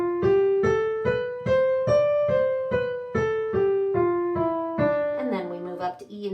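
A piano right hand plays a stepwise scale-fingering pattern beginning on D on the white keys, with clear, evenly spaced notes rising and falling in a steady rhythm, close and moderately loud, with no talking over it.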